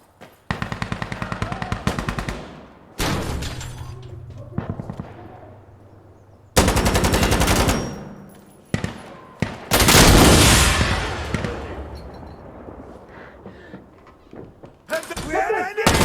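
Automatic and single gunfire bursts in the tactical shooter Insurgency Sandstorm, with loud rapid volleys separated by pauses, some heavier booming shots, and voices talking between the bursts.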